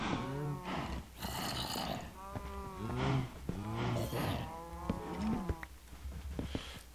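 Several cows in Minecraft moo in turn, repeated drawn-out lowing calls close and fairly loud, overlapping at times across the clip.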